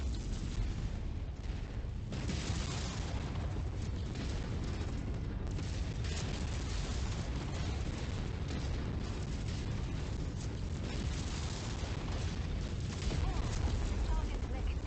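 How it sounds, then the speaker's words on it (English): A mech blows up in the modded MechWarrior 5: Mercenaries video game, with a loud, dense roar of blasts and rumbling debris that stays continuous and heavy throughout, with game voice lines mixed in. "Target mech destroyed."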